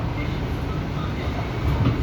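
An MRT train at Bang Kapi station gives a close, continuous rumble with rail clatter, swelling slightly toward the end.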